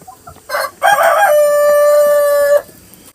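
Bantam rooster crowing loudly and close in a farm chicken yard, one long sustained crow after a couple of short calls, with hens clucking around it as the flock is let out in the morning.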